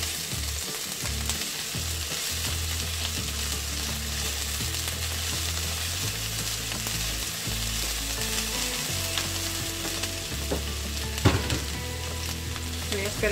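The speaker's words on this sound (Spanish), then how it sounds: "Aquí ya tengo el aceite calentándose, la sartén calentándose." Onion fries in hot oil in a pan with a constant close sizzle and crackle across the whole stretch, with an occasional stir and light knock, and no voices.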